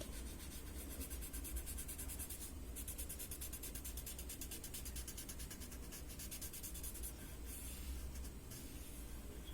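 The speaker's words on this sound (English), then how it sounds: "and just blend the pencil mark out." A graphite pencil mark is blended out on paper with light, rapid rubbing strokes, a soft continuous scratchy friction with fine repeated pulses, close up and quiet, with no voices.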